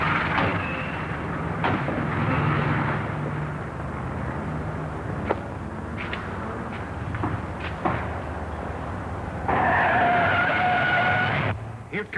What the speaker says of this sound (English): Here comes that same car.